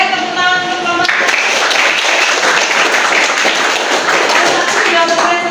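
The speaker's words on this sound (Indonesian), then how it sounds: "tepuk tangan untuk kelompok 1" Classroom applause from students in a twelfth-grade history class, a dense burst of clapping that starts abruptly and carries on steadily for several seconds, with some faint voices mixed underneath.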